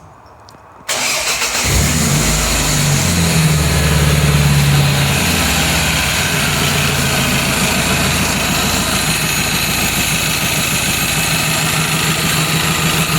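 A 2001 Toyota Camry fitted with a pod filter air intake starts up and settles into a steady, loud idle, its engine drone and intake hum continuous and close with no talking.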